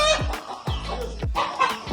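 Big roosters at a farm animal enclosure give several loud, close calls and clucks with falling, squawking tones, spaced about half a second apart.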